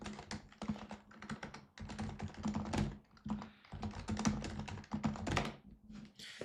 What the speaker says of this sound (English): I'm just reading exactly what I'm typing